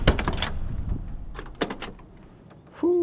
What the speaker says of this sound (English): Doors open up beautifully.